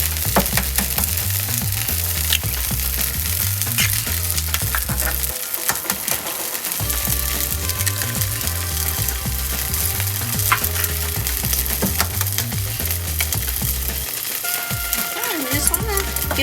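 Turnip and taro cake fries in a pan with a loud, steady sizzle and spatter that runs throughout, with irregular scraping and clinking from utensils against the pan.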